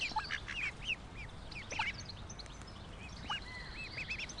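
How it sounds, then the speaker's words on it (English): A mother duck quacks in a series of short, repeated calls outdoors, fairly close, with scattered bird chatter and soft background ambience between the quacks. "You're a good mother duck, aren't you?"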